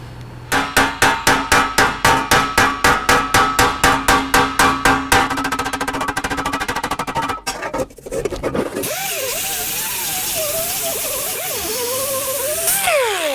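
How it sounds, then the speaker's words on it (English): A hammer taps the back of a welded, shortened 409 valve cover during metal finishing, giving a quick, steady run of ringing metallic blows for about five seconds, followed by continuous scraping and rubbing on the metal. "All I did was tap the back just a little bit to stretch that weld out"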